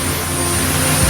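An air force helicopter flies during aid delivery to a disaster-hit area in Sibolga, North Sumatra, a loud steady engine and rotor drone, close and continuous.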